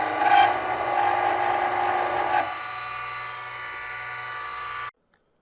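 A power drill bores into a broken screw stuck in wood, a steady whining grind that drops in pitch and load partway through before cutting off abruptly.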